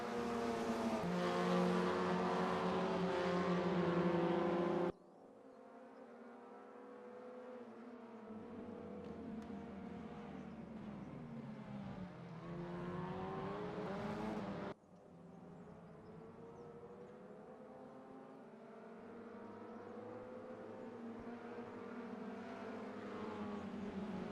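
Touring race cars lapping Shanghai International Circuit, engines rising in pitch through the gears and cutting hard at shifts, loud and close, with a sharp drop near five seconds and another near fifteen.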